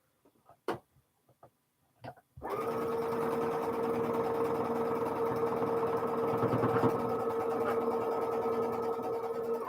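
A sewing machine stitches quilt star blocks in a steady, continuous mechanical hum that runs close and loud for most of the clip, after a few brief clicks and taps at the start.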